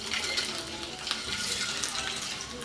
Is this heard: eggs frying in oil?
yes